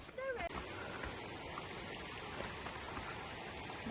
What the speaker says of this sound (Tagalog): Naririnig na namin yung tunog ng falls.